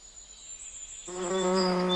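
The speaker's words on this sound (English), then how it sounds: "The bees buzzed happily." Bees buzzing in a garden, a steady, close, tonal hum that swells in after a quiet moment and holds.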